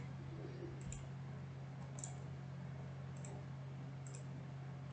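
A computer mouse gives four soft, sharp clicks spaced about a second apart during AutoCAD drafting, close and quiet over a steady low electrical hum.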